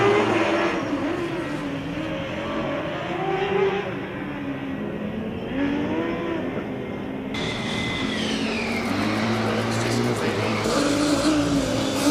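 Formula Student race car, Stralsund's car number 321, circling a track during an endurance event, a continuous whining engine note rising and falling through gear changes, moderately loud under a steady background hum, with a commentator speaking over it.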